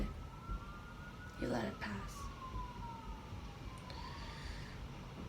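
A faint, distant siren wails in long sweeping tones while a voice speaks briefly over a low background hum.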